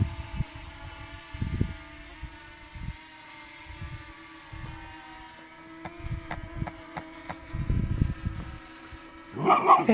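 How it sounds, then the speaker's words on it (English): A dog barks in short bursts near a buzzing drone hovering over a quay with derelict boats, the steady rotor whine running beneath the barks throughout. "The doggy wants the drone."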